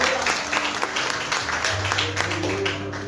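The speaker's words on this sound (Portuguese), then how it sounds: "Vamos aplaudir o Senhor." A church congregation at an evening service applauds in praise, many hands clapping in a dense, sustained stream, with a low held tone and some voices underneath.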